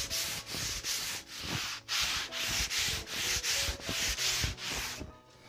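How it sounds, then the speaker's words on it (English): Rhythmic hand sanding of a wall's corners, about a dozen steady back-and-forth scraping strokes, close and fairly loud, with no voices. "when I sand the corners"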